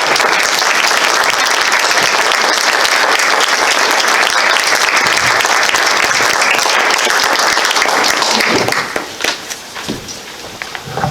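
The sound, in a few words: audience applause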